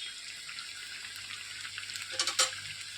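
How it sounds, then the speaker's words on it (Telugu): Masala vadas fry in oil over a slow flame with a soft, steady sizzle, and a few brief bursts of stirring and bubbling near the end. "ఇలా 2 వైపులా తిప్పి స్లో ఫ్లేమ్లో వేయించుకోవాలి."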